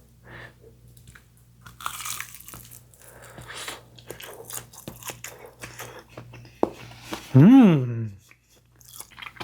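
Crunchy bites and chewing of fried shrimp and vegetables wrapped around a sugarcane piece, close and intermittent, followed by an appreciative hum from the eater.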